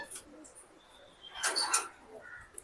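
A burst of pigeon activity rises in the middle of a quiet stretch, with soft cooing and bird calls close by, then settles back to low background.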